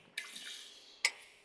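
Water being poured, heard as a soft, steady rush followed by a short, sharper splash, with no voices.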